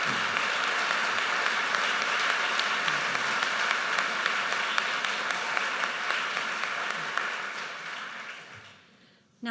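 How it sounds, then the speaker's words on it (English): Sustained applause from a large audience at a school ceremony honoring a graduating class, a loud, continuous wash of clapping that fades out near the end before a voice begins. "please join me in giving them the praise and the applause that they so"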